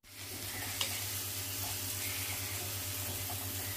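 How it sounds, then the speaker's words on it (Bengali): Chopped tomatoes with salt and curry leaves sizzle in a frying pan, a steady quiet hiss with a faint stir or two, brief and fairly soft. "যতক্ষণ না টমেটোটা গলে গেছে ততক্ষণ পর্যন্ত ভালো করে নাড়াচাড়া করতে হবে"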